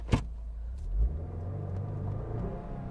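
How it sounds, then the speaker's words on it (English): Inside a moving car, a low steady engine and road rumble hums throughout, with a sharp tap near the start and a brief swell in the drone about a second in. "You can hear the car in the background"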